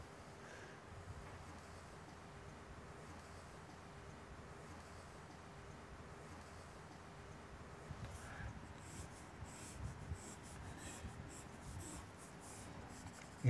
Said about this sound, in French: je redessine la même chose, mais maintenant je suis guidé par la croquis que j'ai fait avant